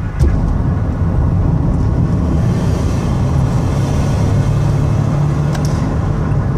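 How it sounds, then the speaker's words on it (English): A 2017 Toyota Sienna LE wheelchair minivan engine runs with a steady low rumble on a test drive, close and continuous, with no talking. "I want to give it a little bit of gas so you can hear the engine run"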